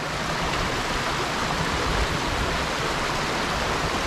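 River water rushing over rocks along a forest trail, a steady, full broadband roar that stays constant and close throughout, with no voices.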